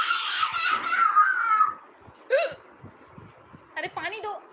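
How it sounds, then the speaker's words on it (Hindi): Sharp, gulping hiccups: a brief voiced stretch opens, then a single loud hiccup and a quick cluster of two or three more follow, close and clear in a quiet room. "हिचकी आ गई मुझे।"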